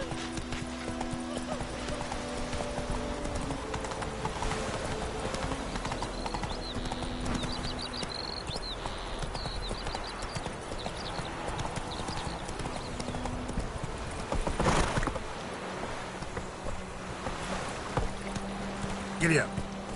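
Hooves of Roach, Geralt's horse in The Witcher 3, clop in a steady trotting rhythm close by for the whole stretch, with occasional spoken voices and other game sounds mixed in.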